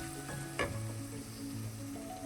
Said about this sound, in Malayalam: ഈ സമയം നമുക്ക് തക്കാളി ചേർക്കാം. അതും ഇതോടൊപ്പം ഒന്ന് വഴറ്റി